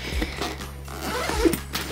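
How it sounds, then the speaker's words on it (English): Zipper on a camera bag pouch being pulled open, a short scratchy rasp close by with a small clink of metal, no talking. "if I can find the zippers"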